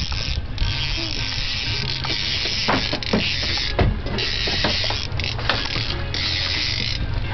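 A fishing reel is cranked continuously while reeling in a striper on Lake Lanier, giving a steady, loud mechanical whir and clicking with no pauses.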